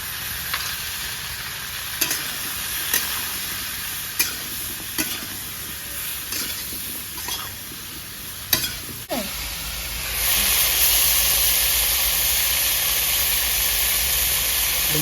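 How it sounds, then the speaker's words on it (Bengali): Cauliflower fries in a pan with salt and turmeric, a steady sizzle broken by sharp scrapes of a stirring spoon every second or two, and the sizzle swells louder near the end. "ফুলকপিটা ভাজা হয়ে গেছে।"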